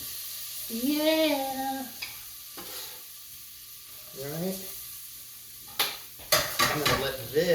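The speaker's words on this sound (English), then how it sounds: "I have a little oil in there already. You can hear that sizzle." Onions sizzle in a little oil in a pan, a low steady frying hiss beneath a voice speaking, with stirring and clinks of utensils toward the end.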